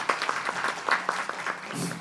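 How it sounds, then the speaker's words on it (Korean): An audience at a volunteer policy forum applauds to welcome the session chair, a moderate, fairly close patter of many hands clapping steadily for a couple of seconds. "박수로 환영해 주십시오."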